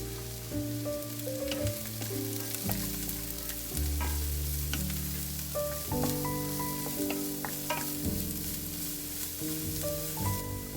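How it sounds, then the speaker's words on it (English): Diced carrots are stirred in a pot with butter or olive oil, giving a sizzling hiss broken by repeated utensil scrapes and knocks. A tonal melody plays steadily in the background. "Throw the diced carrots into the pot and give it a good stir."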